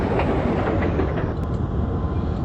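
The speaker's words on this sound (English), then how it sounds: "the workman pushed the breakdown train" A breakdown train pushed along railway tracks toward derailed trucks, giving a steady, loud rolling rumble with dense rail noise throughout and no voices.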